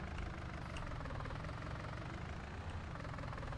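Tractor engine in Farming Simulator 19 running steadily, a dense low rumble with a knocking idle texture, loud and constant throughout with no talking.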